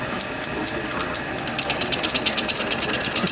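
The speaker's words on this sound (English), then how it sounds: "So I've set this up on the lathe" A metal lathe cutting a part for a Prince dynamo motor: a quiet steady machine whir with a fast rhythmic ticking chatter that grows more pronounced toward the end, with no voices.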